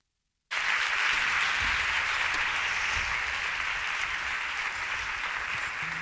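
Sustained audience applause at a gala awards ceremony of a short film festival, welcoming a male singer to the stage; dense, steady clapping starts abruptly and stays loud throughout.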